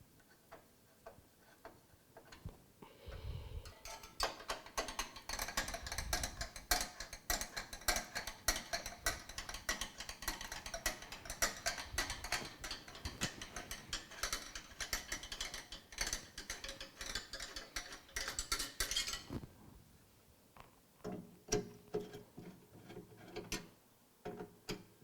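Screws are undone to take a Mugen 5 CPU cooler off a processor during a PC build in a be quiet! Pure Base 500 case. Rapid, close ticking and ratcheting clicks run for about fifteen seconds before trailing off into quieter handling.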